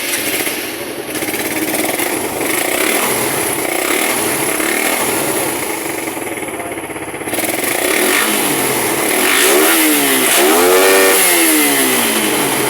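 A Suzuki Raider R150 motorcycle engine runs loudly and close by during carburetor tuning, idling roughly and then revving up in several rising and falling bursts.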